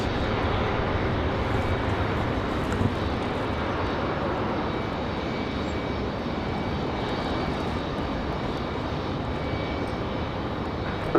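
An Alaska Airlines Boeing 737 MAX 9 rolls along an airport taxiway, its jet engines giving a steady broadband roar with a faint whine, continuous and moderately distant, with no voices over it.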